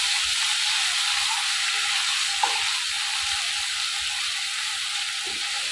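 A spice paste of chilli, onion, garlic, ginger and cumin sizzles and fries steadily in a pan, with the occasional scrape of stirring and no talking.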